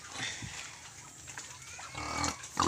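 Native pigs feeding on pansit-pansitan plants on a farm, with soft close-up snuffling, grunting and chewing noises coming in uneven bursts that grow louder near the end, and no talking.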